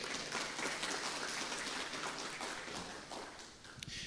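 A congregation applauding God at a church service, a steady wash of many hands clapping at moderate distance for the whole stretch, slightly thinning toward the end.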